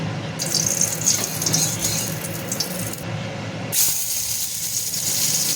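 Heavy rain pours steadily as a broad, continuous hiss, close and fairly loud, with a brief dip in the middle before it swells back.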